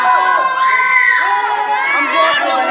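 Crowd at an outdoor rap battle in Purok 7 cheers and shouts continuously, a loud dense wall of excited voices with high yells rising throughout.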